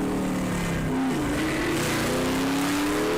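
A modified car with an open exhaust, an aftermarket intake and a cam, roars loudly and close by, its engine note rising and falling through revs with a gruff, continuous drone.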